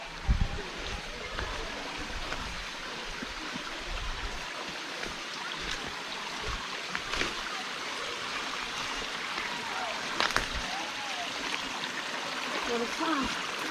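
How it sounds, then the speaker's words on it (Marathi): Water rushes and trickles steadily throughout, a continuous broadband flow with occasional splashes, fairly close. "तो जो धबधबा वर्ण खाली पडतो त्या धारा इथं खालून असं वाहतात"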